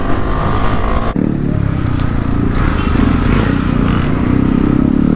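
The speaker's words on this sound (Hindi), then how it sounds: "फुल बाइकें भगाएंगे" Several KTM Duke 390 motorcycles ridden hard at full power on a road, a loud continuous engine roar with rising revs and throttle surges close by throughout, no talking.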